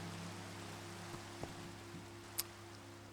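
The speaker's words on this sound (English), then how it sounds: "Alright, it's raining" Soft, steady rain hiss with a few scattered drips and taps, fairly quiet throughout.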